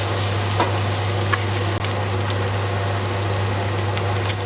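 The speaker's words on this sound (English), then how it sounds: "Just fry this round for about 2 minutes" Garlic and ginger fry in a pan over medium-high heat with a constant close sizzle. A low steady hum runs underneath, and there are a few faint stirring knocks.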